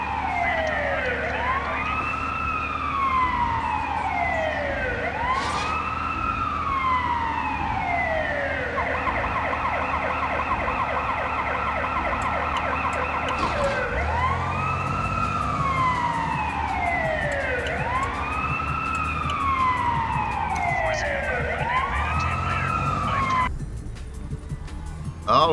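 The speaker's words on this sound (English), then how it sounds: "Get out of my way, I got sirens." Emergency vehicle sirens in the SimCity 4 Deluxe video game, repeated rising-and-falling wails alternating with bursts of fast yelping over a low engine rumble, loud and sustained, with brief talk under it.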